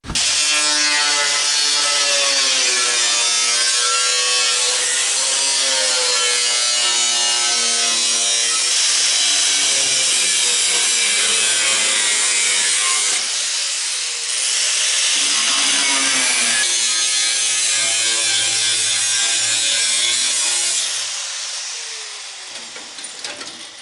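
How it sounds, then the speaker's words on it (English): A small cutoff wheel grinds through spot welds on the sheet-metal cab corners of an Apache truck. The whine is loud and steady and keeps a high pitch that shifts as the wheel bites. It has two short dips near the middle and end, and no talking. "On these spot welds, you can see there, that's how far I'm grinding. I'm taking the little cutoff wheel,"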